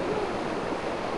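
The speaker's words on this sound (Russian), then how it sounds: "Ну вот то, что действительно можно назвать водопадом." Waterfall in the Lakroosh canyon near Novosvobodnaya, a steady broad rushing roar of falling water, fairly close and uninterrupted, no voices.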